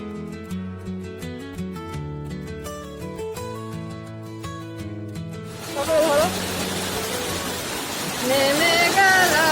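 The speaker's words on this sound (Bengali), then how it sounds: "ভালো বৃষ্টি পড়ছে" Heavy rain begins falling partway through, a dense steady hiss that grows louder and follows a stretch of music.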